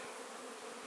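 Honeybees buzz steadily and close at a water feeder set out in an apiary in spring, a dense continuous drone with no other sounds.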